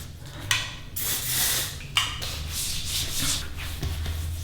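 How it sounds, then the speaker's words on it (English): A few hissing bursts of shine spray onto hair, close by, with soft rubbing and handling sounds between them. "So I'm gonna apply this to the hair. Never too shy with shine spray."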